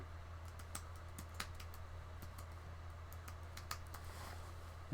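Quiet, quick clicks of a computer keyboard tap out a short search in an irregular burst, close by and faint over a low background hum, with no voices.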